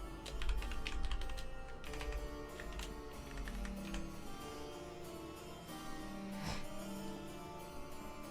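Typing on a computer keyboard while coding in Unreal Engine 5.3, with quick irregular clicks and clacks, close and fairly quiet, in uneven bursts with short pauses.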